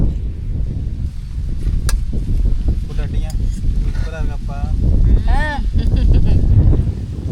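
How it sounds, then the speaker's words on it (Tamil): Outdoor wind gusting across the microphone in a low, uneven rumble that swells and fades, with people talking over it. "காற்று அடிக்குது"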